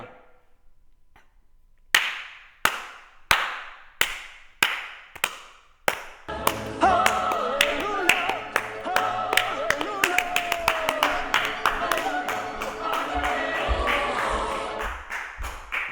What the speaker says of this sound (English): No, I have the Citizen Kane clip. You know, with the clapping.